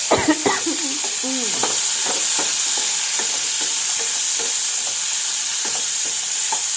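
Snake gourd pieces frying in a hot pan, stirred with a spatula: a steady bright sizzle runs throughout, broken by a cluster of scraping, clattering stirs at the start and a few lighter taps later, with no talking.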